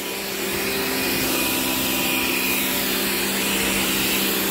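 A Karcher K2 Compact pressure washer runs while washing a car, giving a loud, steady motor drone with a broad hiss and a constant hum that lasts throughout.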